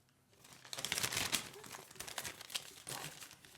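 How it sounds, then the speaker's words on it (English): A paper medicine leaflet rustles and crinkles close by, a brief run of crisp crumpling and handling sounds at low volume, without speech. "Some people like the sound of ruffling paper."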